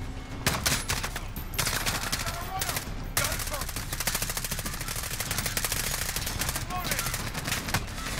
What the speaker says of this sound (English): I just shot through his light.